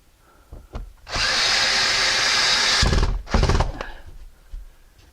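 A power drill drives screws into cement backer board on a ceiling, with one long loud whirring run followed by a shorter burst, all close and with no voices.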